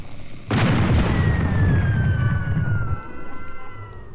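A heavy cannon blast in the airship game Air Buccaneers, a sudden loud booming burst that rumbles for a couple of seconds, then fades into a ringing, whistling tail.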